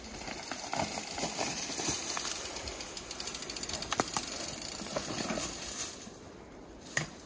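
A mountain bike's freewheel ratchet clicks in rapid runs while the rider takes a turn, close and crisp, the buzzing ticks rising and easing with pedaling and coasting.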